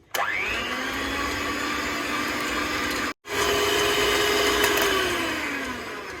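Electric mixer beating choux pastry dough with eggs for eclairs, running loud and close with a steady whirring drone, cutting out briefly midway and then starting up again.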